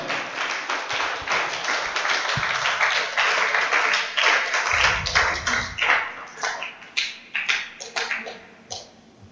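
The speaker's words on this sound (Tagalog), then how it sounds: "Yung mga pumalakpak na yan" A church congregation claps in a burst of scattered, overlapping handclaps that thin out into sparse individual claps toward the end, close and fairly loud.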